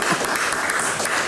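Brief burst of steady applause from a crowd, dense clapping at even loudness throughout.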